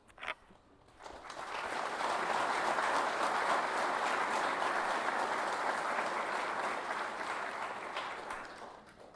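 An audience applauds at a St. Louis County and Municipal Police Academy graduation ceremony. The clapping swells quickly after a moment of quiet and holds as a dense, sustained wash of many hands before fading slightly near the end.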